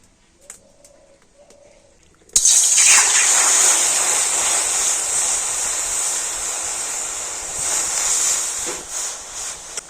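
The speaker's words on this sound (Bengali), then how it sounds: "দু বাটির জল আমি কড়াতে দিয়ে দিচ্ছি" Two bowls of water poured into a wok for cooking: after a couple of soft taps, a loud, steady rushing pour starts abruptly and continues close up until the end.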